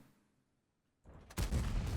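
After a near-silent pause, a tank cannon fires in the World of Tanks video game, a sudden loud boom followed by a second heavy blast and a rumbling tail.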